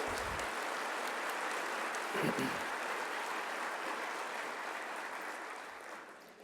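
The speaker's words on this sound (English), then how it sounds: "a round of applause is in order for the St. Thomas Episcopal School Pipe Band" A large audience at the Houston State of the County 2012 event applauds the St. Thomas Episcopal School Pipe Band, a broad steady clapping that slowly fades out, with a voice briefly heard.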